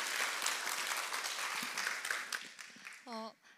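A church congregation breaks into welcoming applause, a dense sustained patter of many hands clapping that tapers off toward the end, with a voice briefly heard near the close.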